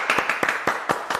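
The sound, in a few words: audience applause welcoming the next speaker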